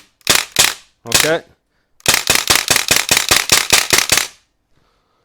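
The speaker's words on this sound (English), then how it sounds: "we're going to shoot this now so you can see the mechanism, and when there's no BBs in it, it will not fire" An Umarex MP40 CO2 BB machine gun dry-fires with no BBs loaded: two quick mechanical clacks and a short burst, then a rapid string of about ten sharp, close clacks. A voice says a single word.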